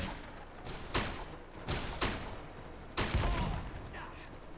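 Gunfire in the video game Lost Planet 2, heavy bursts of shots that swell and fade in three or four waves, loud and close, with some talk faintly underneath.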